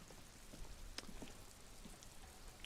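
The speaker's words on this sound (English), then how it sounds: "This rain will not let up anytime soon." Steady rain in Disco Elysium, a soft, faint hiss of falling water with a few scattered droplet taps, no voices over it.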